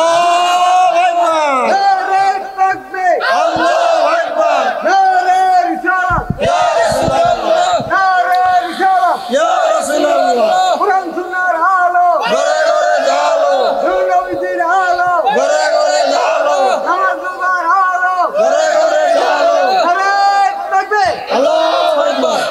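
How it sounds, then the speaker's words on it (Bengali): A crowd at a religious gathering chants a slogan loudly in unison, rhythmic voiced calls repeating for over twenty seconds with shouted lines and responses. "কে কে চাই দুই হাত তুলে একটা স্লোগান দেন না রে, জোরে জোরে।"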